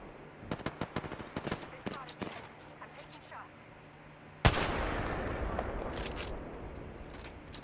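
Shooter video game gunfire, with scattered shots and clicks under a player's talk, then a sudden loud burst of sustained rapid firing that continues to the end.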